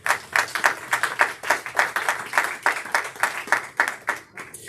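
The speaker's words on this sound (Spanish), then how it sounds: "Todos pueden dar un aplauso al Señor Jesucristo" A congregation in a church applauding during a Sunday service, rhythmic unison clapping in steady repeated beats, fairly loud and sustained.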